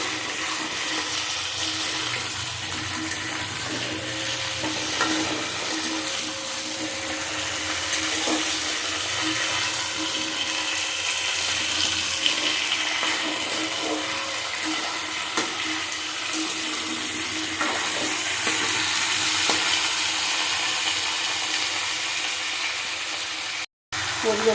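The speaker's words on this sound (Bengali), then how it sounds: "আলুটাকে ভালো করে ভেজে নেব আমি।" Potatoes fry in a pan with a continuous, even sizzle and crackle that stays close and steady throughout, with a voice speaking faintly underneath.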